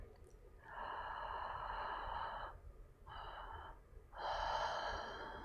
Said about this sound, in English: you'll hear the sound of the breath moving